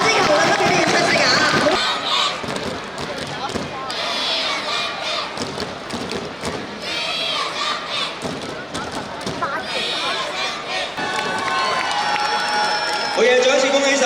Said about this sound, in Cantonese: 我哋俾啲掌聲佢哋好唔好啊？